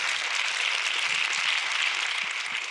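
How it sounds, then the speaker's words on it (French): Sustained applause from a theatre audience at a film festival screening, honouring the woman who directed the film; dense, steady clapping throughout, fairly close and even in level. "vous pouvez applaudir la réalisatrice de ce film"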